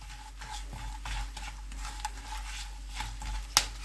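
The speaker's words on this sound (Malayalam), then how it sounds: "ഇത് 3 കൂടി ഒന്ന് സോട്ട് ചെയ്യാം" Green chilli, dried chilli and curry leaves are sautéed in a pan for a restaurant-style pork fry: a faint, soft sizzle with light stirring scrapes and a sharper clink near the end.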